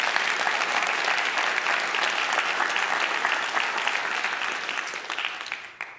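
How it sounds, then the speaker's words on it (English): Audience applause at a university State of the University address, a dense steady clapping crowd sustained for about six seconds before thinning out at the end. "please take a second and give her a round of applause"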